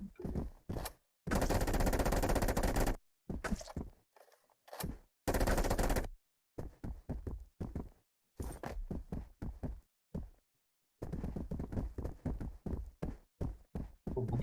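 Gunfire in an Unreal Engine third-person co-op shooter as shots hit enemies, with loud bursts of automatic fire broken by short single shots and gaps, with no talk.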